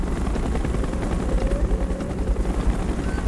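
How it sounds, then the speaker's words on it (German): A steady rumbling helicopter drone with rhythmic rotor thumping in the video game Call of Duty: Black Ops, loud and continuous for a few seconds. "Ein Helikopter kommt alle hier nach."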